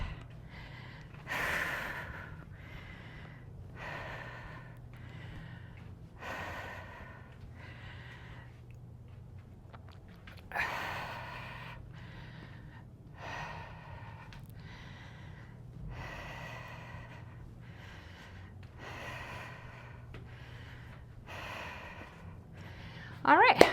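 Heavy breathing while resting between sets of a weight-based strength workout, a steady series of loud, close exhales and gasps repeating every couple of seconds over a constant low hum, with no talk.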